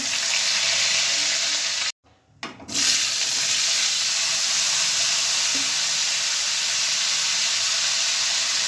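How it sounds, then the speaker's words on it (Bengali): Cumin seeds and bay leaf sizzle in a little hot oil, a steady bright frying hiss that breaks off briefly near the start and then resumes, close and even, with no one talking. "সামান্য তেল, ফোড়নে দিয়ে দিলাম জিরে, দিলাম তেজপাতা"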